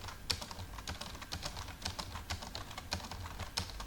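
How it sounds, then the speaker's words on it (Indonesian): Fast, steady typing on a computer keyboard in Microsoft Word: crisp, close clicks and clacks in an irregular rapid rhythm, alone without talk. "ini sekarang kalau saya ketik misalnya di sini"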